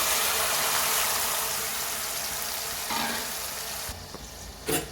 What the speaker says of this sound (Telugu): ఇప్పుడు ఇందులోనే మిక్సీ పెట్టిన ఉల్లిపాయ పేస్ట్ అయితే వేసుకోవాలి